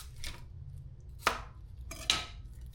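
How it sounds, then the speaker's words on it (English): Vegetables are chopped on a cutting board in a few quiet knife strikes, two of them crisp and distinct, over a low background hum with no speech. "Let's get to chopping."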